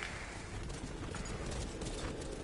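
Hooves of a black horse in Skyrim, a muffled, steady clip-clop of footfalls under a broad rushing background, moderately quiet.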